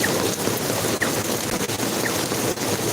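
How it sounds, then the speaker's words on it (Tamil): Heavy rain pours down in Singapore as a dense, steady roar of broadband noise, close and continuous. "நல்லா மழை பெஞ்சிட்டு இருக்கு"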